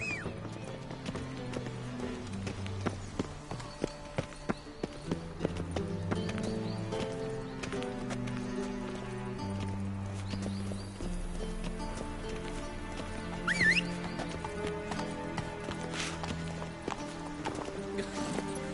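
Roach, the horse in The Witcher 3 video game, gallops with rhythmic hoof clip-clops and a whinny under a steady orchestral music score, the hoofbeats clear and continuous throughout.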